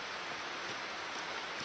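Heavy rain falls steadily near a river, a dense even hiss of downpour with no breaks and no voices.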